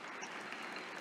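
Applause from The Lion's Song video game as the curtain falls on a stage performance: a steady, even wash of clapping from an audience, fairly quiet and unbroken.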